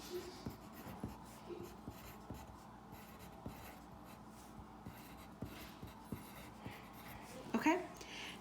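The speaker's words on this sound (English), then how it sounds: "let me write another list of numbers" Pen writing a list of numbers for a math lesson, with short scratchy strokes and taps recurring steadily through the stretch and a slightly louder flurry near the end.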